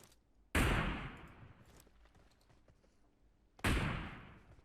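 Two loud, sharp gunshot blasts in the PUBG Mobile video game, a few seconds apart, each with a decaying tail, over quiet background.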